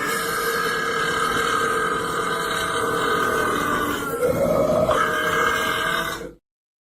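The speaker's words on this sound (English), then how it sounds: "Can we get a Garand belch?" A long, loud, drawn-out belch that rumbles steadily for about six seconds, close to the microphone, shifting pitch near the end before stopping abruptly.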